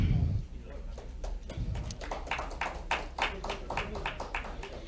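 Scattered audience applause for a speaker at a conference: separate claps come at a loose, uneven rhythm, fairly close by and moderately loud, with no speech over them.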